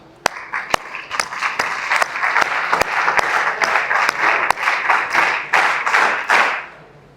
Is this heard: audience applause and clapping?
yes